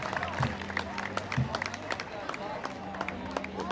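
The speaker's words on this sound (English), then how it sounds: "It's a big crowd here." A big outdoor crowd in Central Park, Manhattan, at sunset: a diffuse murmur of many voices with footsteps and scattered claps, and a nearby voice speaking over the hubbub.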